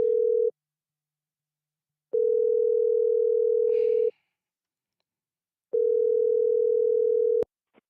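An outgoing call-back on a call-in radio show sounds as a telephone ringback tone: three long, steady low tones separated by silent gaps, loud and clean, ending with a click as the line connects.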